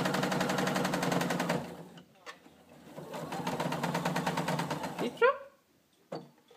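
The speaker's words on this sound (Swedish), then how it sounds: "Syr med pressarfotens kant. Hela vägen ner." A sewing machine stitches in fast, rapid bursts along the presser foot edge while a doll is made, with short pauses between runs and a voice speaking briefly near the end.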